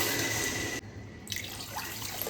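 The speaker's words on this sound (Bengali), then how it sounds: "চিনি তো দু বাটি জল দিয়ে দেবো" Water poured from a bowl into sugar in a cooking pan for sweet syrup, a steady close splashing pour that cuts off briefly and resumes, with no talk.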